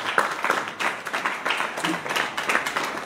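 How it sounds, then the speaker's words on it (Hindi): People clap their hands together at a religious gathering in Baraut: steady, rhythmic group clapping at moderate volume over several seconds, with a murmur of voices underneath. "ताली बजा।"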